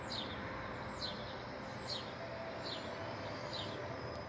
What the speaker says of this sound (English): You listen to nature in the background, the birds singing.